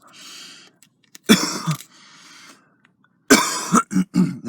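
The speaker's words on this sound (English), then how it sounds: "This is a weak cough." A weak, painful cough from a person with a pulmonary embolism: two short, strained bursts with breathy pauses and soft throat-clearing, close and fairly loud.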